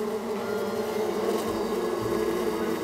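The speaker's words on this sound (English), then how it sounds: "Looks like a great place to get those bees for Compton." A dense, steady buzzing of bees in the Psychonauts 2 video game, continuous and fairly loud throughout with no talking.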